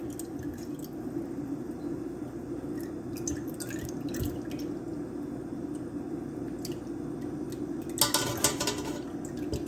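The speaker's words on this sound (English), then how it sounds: "I'm going to take the melon and strain it out and put it in here." Liquid drains and drips from strained pickled melon, a faint, steady trickle with soft squishy splashes and a brief louder patter near the end.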